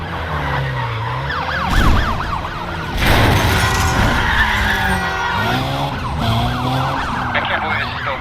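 Police sirens wail and warble through a high-speed pursuit in the racing game Need for Speed Undercover, with tires skidding and engines roaring loudly throughout, heavy bursts of crashes near the middle.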